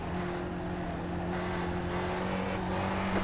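A race car at Lime Rock in iRacing drones with a steady engine tone and broad road rumble, loud and continuous as another car goes by.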